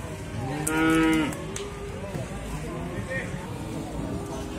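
A female cow at a rural animal market in Muntilan, Magelang, gives one loud, drawn-out moo near the start. Low livestock-market bustle and a speaking voice follow.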